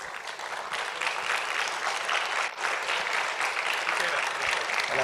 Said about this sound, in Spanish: a quien les pido que lo recibamos con un fuerte aplauso